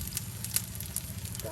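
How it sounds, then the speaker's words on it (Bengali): Crispy eggplant fritters deep-frying in oil in a village kitchen, a soft continuous sizzle with faint crackles over a low hum, heard quietly in the background. "মসমসে ভেজে নেওয়া হচ্ছে"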